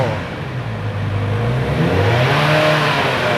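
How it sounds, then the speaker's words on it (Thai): A 2019 Kawasaki Z900RS motorcycle engine is revved, its tone climbing and dropping in smooth waves over a constant close, loud rumble. "รอบเครื่องยนต์นิ่งครับอัตราเร่งดี"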